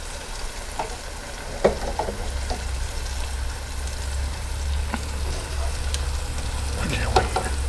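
Chicken fried bacon crackling and sizzling steadily in a pan, close, with occasional sharp pops and utensil clicks over a low hum.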